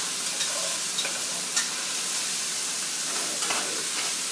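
Bacon sizzles and fries in a pot for carbonara, a steady broadband crackle with occasional louder pops and scraping stirs, close and continuous with no talking.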